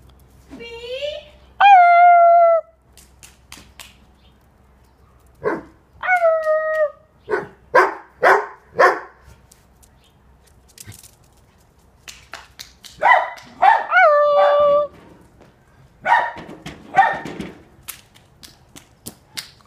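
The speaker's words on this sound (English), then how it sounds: "Can you make me that bark, Liam?" A dog gives drawn-out howls and short barks in irregular bursts across a busy room. People talk over and between the calls, and the howling is strongest near the start and again toward the end.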